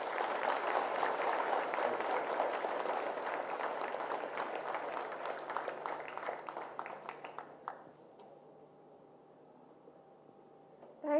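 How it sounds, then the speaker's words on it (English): Audience applause for Dr. Kiran Bedi at Woxsen University fills a hall with dense, steady clapping that thins out into scattered claps and fades after about eight seconds. "please give a big round of applause to Dr."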